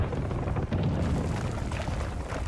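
Explosions in the video game Life is Strange: True Colors rumble as a deep, sustained low boom with rough crackling texture, loud and continuous without speech.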